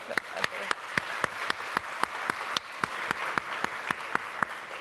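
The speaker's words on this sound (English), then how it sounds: "let's do another round of applause for you for all the examples that you're leading by today" Conference audience applauding a panel session, with sharp individual claps standing out at a steady pace over a dense wash of clapping from the crowd.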